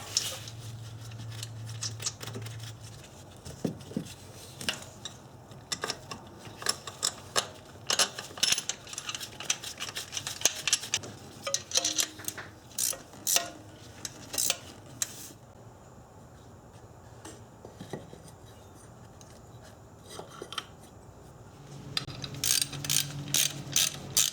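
Fasteners are tightened with a hand ratchet while a Subaru starter is reinstalled, giving bursts of rapid, clicking pawl ticks with brief pauses, close and fairly quiet over a low hum.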